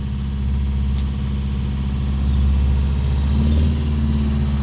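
A 1966 MGB GT engine runs steadily at a low, throbbing idle as the car is shifted into reverse, the note swelling slightly partway through; loud and close, with no voices.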